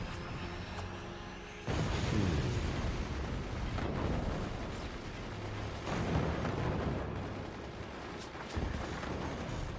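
Rockets fire and explode in the siege game Forts as a long, rumbling barrage: repeated heavy booms and blasts layered over a constant roar, several sharp onsets standing out loudly against the dense background.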